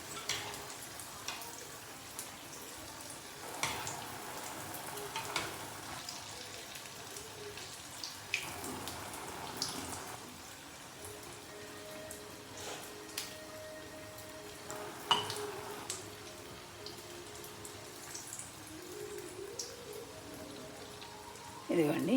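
Poornam boorelu, sweet stuffed dumplings, are dropped into hot oil for a prasadam offering, giving a soft, continuous crackling sizzle with occasional clinks and stirring sounds, quiet and close.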